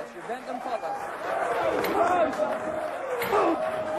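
A strongman competition crowd at the 1988 World's Strongest Man reacts to a disallowed lift with a swelling mix of shouts, whistles and jeers, while a commentator talks over the noise.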